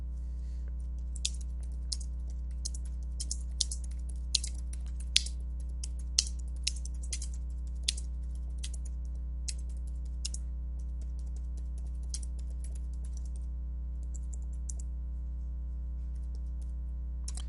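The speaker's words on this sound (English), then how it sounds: "your text will type just through the keyboard" Typing on a computer keyboard, a quick irregular run of light key clicks with pauses over a steady low hum, close and fairly quiet.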